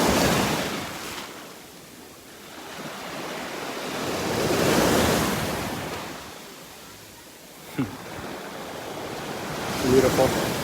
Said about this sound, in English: Feeling the waves rolling around in between your toes, the sand washing out from underneath your feet as the waves go out.